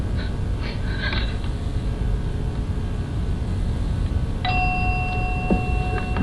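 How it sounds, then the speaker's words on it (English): A bell rings out in a high-school quiz competition after a math toss-up question, sounding as a sustained, clear, ringing tone that starts partway through and holds to the end over a steady background hum of the room. "I think you beat the bell."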